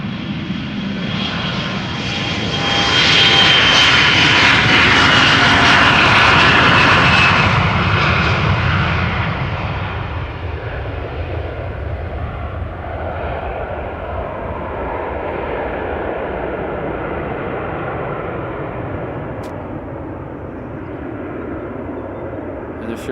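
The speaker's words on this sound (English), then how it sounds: "Another KLM Embraer" A KLM Embraer 175 regional jet roars past at Amsterdam Schiphol, loud and close at first with a strong broadband whine, then its rumble fades into a steady distant drone.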